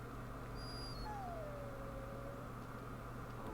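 A dog in Dragon Age Origins gives a faint, thin whimper, a single drawn-out whine that slides downward over a steady low background hum.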